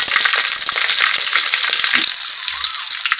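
Dried red chillies, curry leaves and green chillies sizzling hard in hot oil with mustard seeds, a steady loud crackle and spatter close to the pan, with faint stirring.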